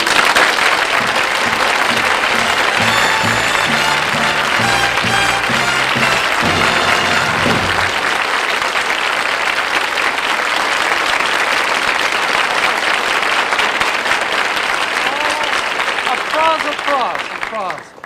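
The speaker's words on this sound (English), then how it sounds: "Applause." Studio audience at a 1967 television comedy variety show breaks into sustained, loud applause that carries on for many seconds. Band music plays under it at first, then the clapping continues alone until a final fade.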